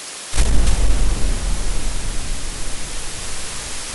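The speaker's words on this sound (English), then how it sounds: "The thunder is louder now" A deep, continuous rumble of thunder rolls in suddenly and keeps growling, with a broad hiss like heavy rain underneath.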